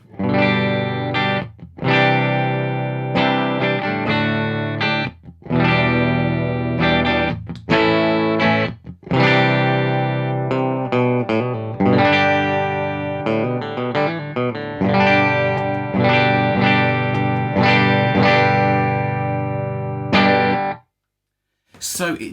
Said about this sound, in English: I'll show you what the guitar sounds like with the small trees turned off, and then kick it in